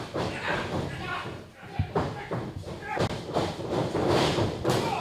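A wrestler lands a drop kick during a pro wrestling match, a heavy thud against the ring mat that rises out of constant commentary and crowd noise, with several other loud thumps nearby.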